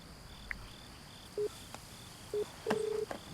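Telephone keypad tones beep one after another in a Malayalam movie scene, short separate tones then a longer one, over faint crickets chirping in the background.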